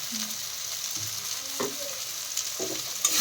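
A spoon works turmeric, salt and spice masala around a hot pan, a continuous soft sizzle broken by occasional scraping strokes and light clinks.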